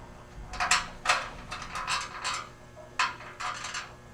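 Metal bolt worked into an aluminum swingpost arm, giving a series of short scraping, clicking mechanical bursts in irregular groups, close and fairly quiet, with no talk.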